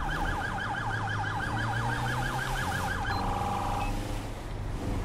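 A police car siren in the video game GTA 5, a fast wailing yelp that repeats for about three seconds and then cuts off, loud over a steady engine rumble.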